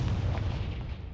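A Confringo blasting spell bursts in Hogwarts Legacy, a loud, dense explosive boom that rumbles heavily through the low end and fades slightly over about a second, with no voices.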